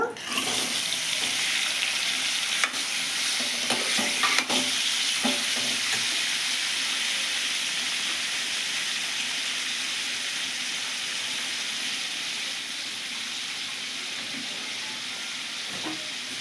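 Chopped tomatoes fry in a pan with a loud, even sizzle that holds for the whole stretch, broken early on by a few faint clicks of stirring.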